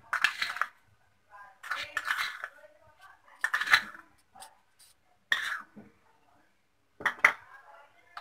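Spices and mustard oil are mixed in a dish, intermittent bursts of metallic scraping and clinking of a spoon against the bowl with quiet pauses between strokes.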